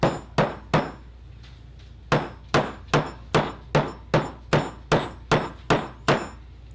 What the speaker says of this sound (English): take a hammer, any kind of a hammer will do, but then you just tap this tap-off pattern like this.